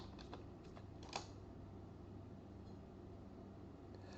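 Computer keyboard typing on a Windows Server 2019 machine, a few faint scattered keystrokes early on over a steady low electrical hum, then only the hum.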